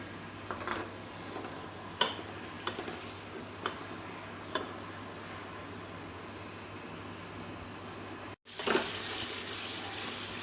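Onions dropped into hot cooking oil in a pan, with scattered ticks and pops giving way to a sudden loud, steady sizzle after a brief pause near the end.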